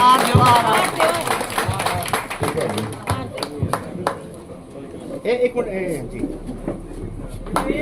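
Crowd at a village political gathering, where a former sarpanch joins the BJP, claps in scattered sharp bursts that thin out, with a voice talking over the applause throughout.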